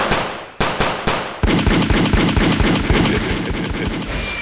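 Cartoon gunfire in a stop-motion Spider-Man episode: three separate loud sharp shots, then a rapid continuous burst of automatic fire that rattles on and slowly fades.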